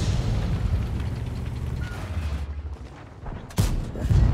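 A tank cannon shot in World of Tanks, a heavy booming blast with rumbling battle noise beforehand, followed by a sharp loud impact near the end and lingering low rumble.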